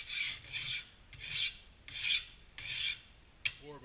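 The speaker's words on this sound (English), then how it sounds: "you want to start with a pretty big file, and you can start either by filing diagonally" A large hand file rasps diagonally across metal in five even, evenly spaced strokes, each a loud close scraping burst separated by brief pauses, ending with a light clink.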